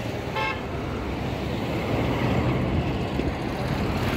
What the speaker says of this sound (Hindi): पर चलो बीच रोड में चल रहा हूँ, दोनों साइड से गाड़ियाँ चल रही हैं